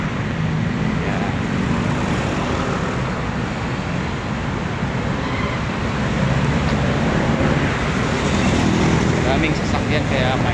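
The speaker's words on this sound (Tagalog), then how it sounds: "Maraming sasakyan kaya maingay." Dense street traffic from many vehicles near the Intramuros sidewalk in Manila, a steady loud roadway roar with engines passing close by throughout, no talking.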